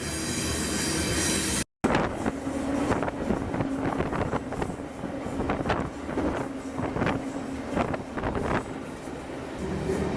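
Freight train riding north on a BNSF line, heard from aboard: loud continuous rumble and clatter of wagons with squealing wheels and heavy wind buffeting the microphone after a brief dropout.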